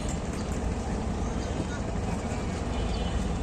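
Motor trawler boat on a river, its engine a steady, loud low rumble with broadband wash and wind noise, continuous and close throughout.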